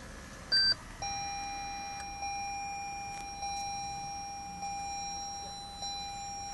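Push-button start chime in a 2013 Lexus ES300h hybrid sedan with a 2.5 L four-cylinder: one short bright beep, then a steady repeating tone sounding about every second and a quarter, clear and close in a quiet cabin.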